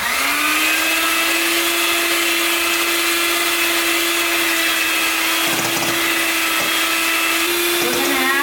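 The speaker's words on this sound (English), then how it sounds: "So now we're going to beat our eggs." An electric mixer beating eggs for an egg wash on Macedonian braided cookies, a loud continuous high whine that runs without a break, with a few brief clatters near the end.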